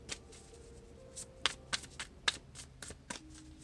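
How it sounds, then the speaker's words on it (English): Tarot cards shuffled and tossed down, a run of soft riffling with several sharp slaps and snaps spaced through a few seconds, close and fairly quiet with no talking. "I'm throwing cards."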